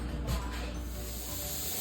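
Steam hisses steadily from jars of homemade beef bone broth during canning, a continuous broadband rush that stays even and moderately loud throughout with no voices.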